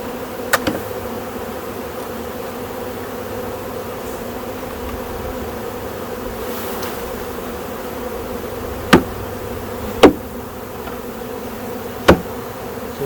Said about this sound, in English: So there's the bees that was in the box.